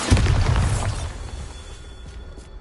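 A Bombarda blasting spell explodes in the video game Hogwarts Legacy, a loud, close boom with a shattering burst at the start that rumbles and decays over about two seconds, with no talking.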